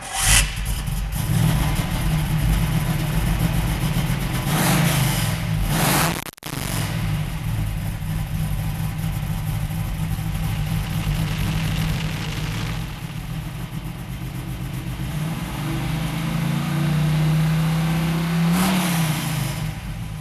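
An old car nicknamed Big Red, running again after radiator and wiring work and fitted with mufflers for the first time since the 1980s, idles and revs repeatedly, its engine rising and falling loudly and close up with no talk.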